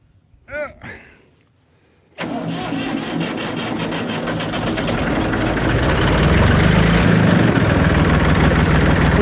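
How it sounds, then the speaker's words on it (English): Engine with a leaking muffler starts after a short stutter and runs steadily and loudly, a rough raspy drone that grows slightly louder over several seconds. "We do have a leak in the muffler."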